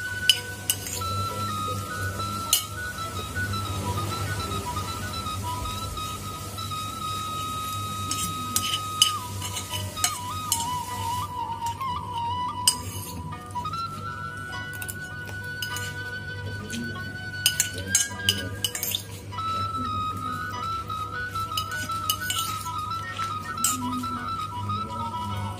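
Metal utensils clink and scrape against a pan while fern greens and fried noodles are stirred, the sharp taps coming in irregular bursts over a steady background hum and a faint sizzle.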